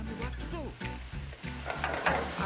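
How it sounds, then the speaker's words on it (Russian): Seasoned beef sizzles and crackles in a hot pan close by, with light stirring and clinks under quiet background talk. "Приправить? Да, и на сковородку."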